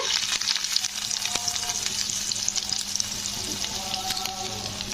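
Chicken cutlets fry in hot oil in a pan, giving a steady, close crackling sizzle with a few sharp pops and light clinks throughout, with no talking.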